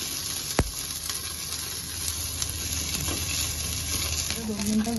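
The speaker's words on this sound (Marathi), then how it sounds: "सुरुवातीला मी ही भेंडी टाकते आणि ही बुळबुळीत असते आणि ती व्यवस्थित पहिली भाजून घ्यायची आपल्याला" Okra (bhindi) frying in a pan, a steady close sizzle and hiss with one sharp knock early on and light stirring scrapes throughout.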